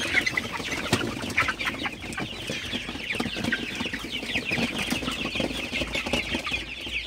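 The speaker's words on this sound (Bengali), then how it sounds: "আপনারা দেখতে পাচ্ছেন আমার সোনালী মুরগিগুলা মাশাআল্লাহ খুবই ভালো আছে" A flock of Sonali super hybrid chickens on a poultry farm, 47 days old, clucks and chatters continuously in a busy overlapping din with scattered louder calls, close by and without speech.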